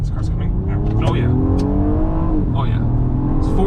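A 2017 Honda Accord Coupe EX-L V6 on its stock exhaust accelerates hard nearby, the engine note climbing steadily through the gears as a person speaks over the sustained, loud drone.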